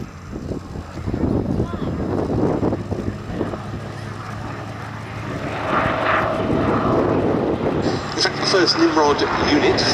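Hawker Nimrod biplane flying at the Duxford Battle of Britain air show, a steady piston engine drone rising and falling with wind buffeting and open-air crowd noise. Someone talks over it throughout.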